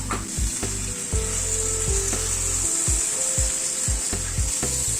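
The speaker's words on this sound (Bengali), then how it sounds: "এবার এই বেগুনটা যেটা ভেজে রেখেছিলাম সেটা অ্যাড করে দিলাম।" Fried eggplant goes into a vegetable curry in a pan for roti or paratha, and a steady loud sizzle runs throughout while a spoon stirs and scrapes in short repeated strokes.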